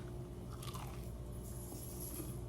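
Someone bites into fried okra dipped in ranch, a quiet close crunch followed by soft chewing, with no talking.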